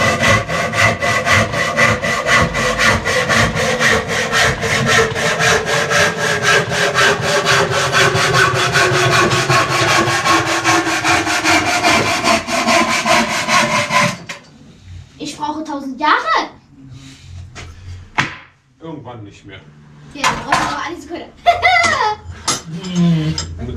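Loud, rapid sawing from a chainsaw rasps through wood for several seconds, then stops, followed by people talking nearby.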